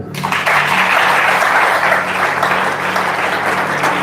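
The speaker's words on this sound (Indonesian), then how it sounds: "Tepuk tangan untuk Tuhan." A congregation claps at a healing revival service in a ballroom, a loud sustained burst of applause that starts abruptly and holds steady to the end.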